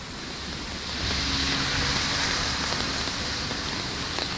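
Heavy rain falls during a flood alert after 36 hours of nonstop downpour. A dense, steady hiss of rain on surfaces swells slightly and stays loud and even, with no voices.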